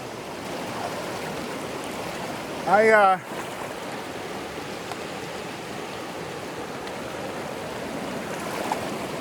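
Cold creek water rushing steadily over rocks in the Cohutta Wilderness along Hickory Creek, a close continuous broadband wash with a brief voice sound partway through.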